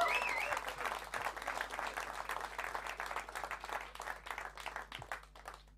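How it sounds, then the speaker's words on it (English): Comedy club crowd applauding a comic onto the stage: dense, steady clapping from a room full of people, loud at first and gradually thinning toward the end, with scattered cheers mixed in. "a huge round of applause and welcome to the stage, Sanjay Manaktala!"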